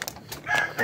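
A rooster crows twice in quick succession during a short burst outdoors among farm chickens, close and fairly clear.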